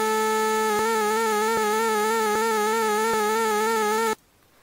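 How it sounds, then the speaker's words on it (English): A sustained ProTracker tone with smooth, continuous sine-wave vibrato plays while new notes enter at regular intervals without retriggering the wobble, then cuts off abruptly. "This means set waveform to sine wave, but don't retrigger if a new note is played."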